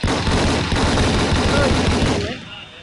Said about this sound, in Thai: เดี๋ยวขอยิงก่อน